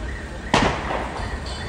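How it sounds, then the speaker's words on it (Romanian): Single sharp blast from gas cylinders exploding in a building fire on a city street, a loud burst with a short rumbling tail over steady background noise. "butelii. De aceea se aud așa explozii."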